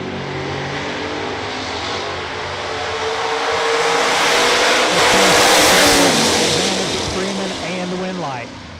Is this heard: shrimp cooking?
no